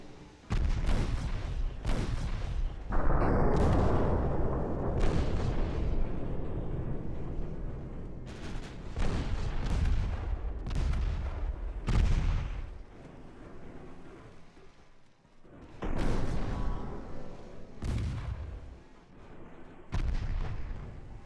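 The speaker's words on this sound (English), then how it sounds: "Whatever guns can still fire, keep shooting." Heavy naval guns from warships in the naval battle game Ultimate Admiral Dreadnoughts fire in a long series of deep, loud booms, with rumbling salvos overlapping and a few sharp isolated shots.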